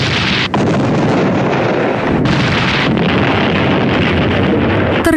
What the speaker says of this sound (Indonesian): Terjadi ledakan yang pastinya membuat siput-siput itu mati semua